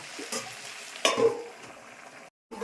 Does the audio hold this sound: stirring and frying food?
yes